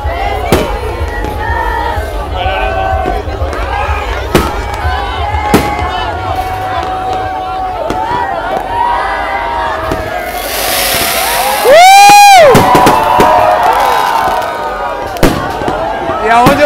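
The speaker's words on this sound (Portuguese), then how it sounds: "é onde está tendo mais fogos" Fireworks bursting over a crowded beach on New Year's Eve at Jurerê Internacional, Florianópolis, with repeated booms, crackles and whistling rockets over a constant crowd roar, cheering and people talking nearby.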